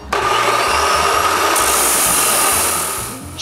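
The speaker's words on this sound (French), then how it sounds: "je peux percer les trous pour le support de métal qui est sur le dessus de la grue" Drill boring holes through a metal support for a crane, a loud, steady grinding whine that runs continuously for about three seconds before easing off, close by with no talking.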